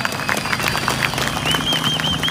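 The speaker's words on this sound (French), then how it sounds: "Je vous demande de les applaudir." A crowd at a political gathering applauds, a dense continuous wash of many hands clapping at once, fairly loud and steady throughout, with a faint whistle-like tone threading through.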